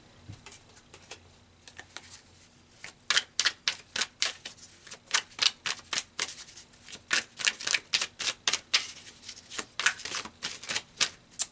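Tarot cards shuffled close up in a long, steady series of crisp papery riffles and flicks, quiet at first and then rapid and regular, with no speech.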